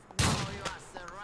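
A sharp close burst of gunfire rings out in Grand Theft Auto IV, followed by a decaying boom and a couple of fainter shots, with no talking.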